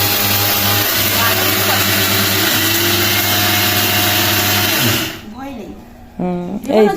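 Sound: blender running while making homemade cerelac

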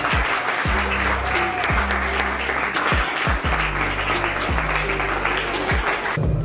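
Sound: students applauding a topper

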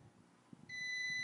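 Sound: UNI-T UT216D digital clamp meter beep

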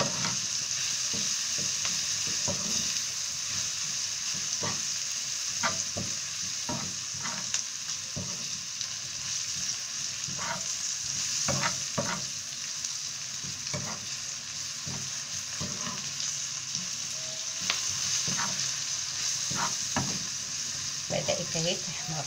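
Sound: frying fish in a pan

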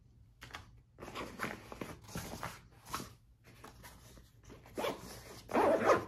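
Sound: zipping a backpack pouch zipper

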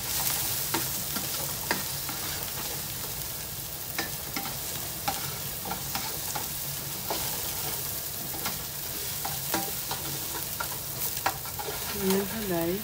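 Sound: onion frying and being stirred in a pan

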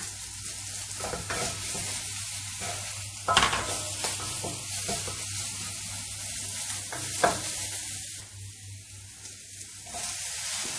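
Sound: stir-frying shrimp with coriander root, garlic, pepper, shiitake mushrooms

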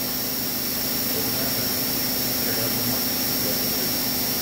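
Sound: Akira-Seiki CNC vertical machining center spindle spinning up

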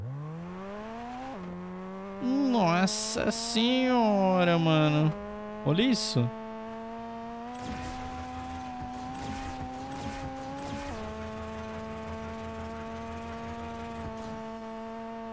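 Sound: McLaren 765LT car engine accelerating in Fortnite video game

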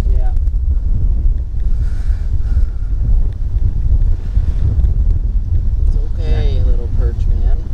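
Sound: wind blowing on a wharf

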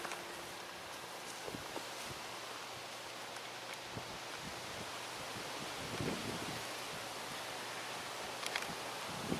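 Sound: wind blowing outdoors

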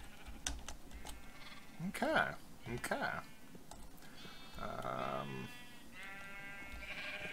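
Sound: sheep bleating in Minecraft video game

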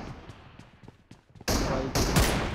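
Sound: sniper rifle shots in a video game

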